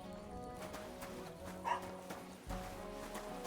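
A dog in Kingdom Come Deliverance 2 gives a few short, fairly faint barks over a quiet medieval background with soft hoof-like clops and distant ambient sounds.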